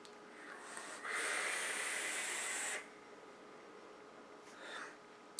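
A rebuildable dripper atomizer at 0.27 ohms fired at 50 watts gives a steady airy hiss and inhale rush for about two seconds, followed by a softer exhale breath and a faint click at the end.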